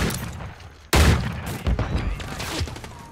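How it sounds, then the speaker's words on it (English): Gunfire from a match of Call of Duty Modern Warfare 3, a sudden loud burst of shots and booms erupting after a quieter stretch, continuing in dense rattling bursts up close. "And I died to a machine gun"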